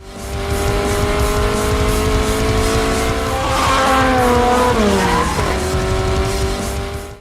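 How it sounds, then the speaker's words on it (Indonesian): A racing car, a Silvia S15 in a street race, loses control on a corner: a loud, sustained engine roar with screeching, sliding tire squeal building midway and fading out, no voices. "Hingga di sebuah tikungan, tiba-tiba Idlan hilang kendali dan akhirnya Rudi bisa memenangkan balapan itu"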